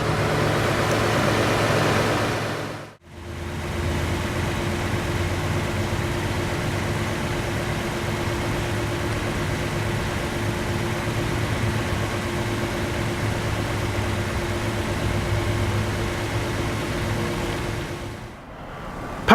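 A naturally aspirated 3.5-liter V6 in a 2018 Lexus GS350 idling steadily with a smooth low hum, a brief dip near the start, otherwise continuous and close for the whole stretch.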